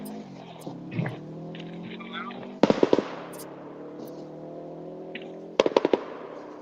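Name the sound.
rally car engine backfire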